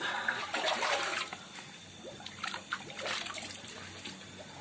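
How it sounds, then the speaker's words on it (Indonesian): Water of a natural spring bubbles and splashes continuously, with irregular gurgling bursts at close range and no talk. "Ada gelembung airnya besar banget."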